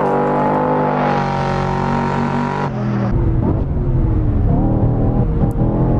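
A car accelerating up the Goodwood hillclimb in a #NOHESI driving game, its engine revving loud and close, holding a steady high drone, then dropping in pitch with a gear change before climbing again.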